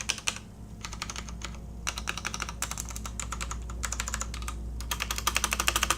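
Typing on a SteelSeries Apex M500 mechanical keyboard, with bursts of quick, close clicking keystrokes separated by short pauses and a steady low hum beneath.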